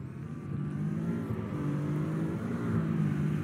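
A car engine in a video game drones steadily at a moderate level, a continuous low hum with a slight rise in revs toward the end.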